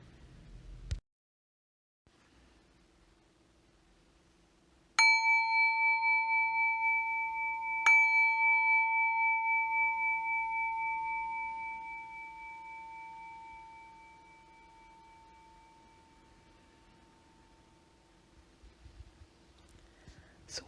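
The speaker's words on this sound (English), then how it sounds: "we'll begin and end this short practice with the sound of a bell" A mindfulness bell is struck twice, a few seconds apart, each strike giving a clear, sustained ringing tone that slowly fades over about ten seconds in a quiet room with no talking.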